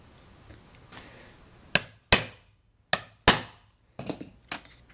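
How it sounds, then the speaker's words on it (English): Chisel struck through a leather portfolio, four sharp loud close hammer blows in quick pairs, each with a short ringing decay, followed by a few lighter taps and no talking. "Take the chisel, set that in place."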